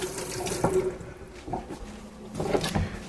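A cucumber rinsed under running tap water at a kitchen sink, a steady splashing stream with shifting gurgles as the vegetable moves through it, close and moderately loud.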